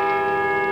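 Church bell tolling, a sustained metallic ring with strong steady overtones and a long sustain, loud and alone.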